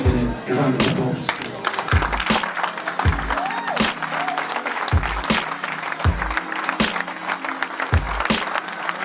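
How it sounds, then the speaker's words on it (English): An audience at an African fashion show bursts into sustained applause, dense clapping filling the room from start to finish, with a few sharp louder claps and thumps punctuating it. "I want you to stand up and give Richard, or your family, Richard, a round of applause."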